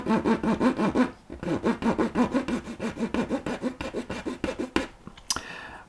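A hand saw cuts through plastic on a 1/24 scale MPC General Lee model kit, about two dozen quick rhythmic back-and-forth strokes rasping close by, pausing briefly once, then ending with a few scrapes and a clatter.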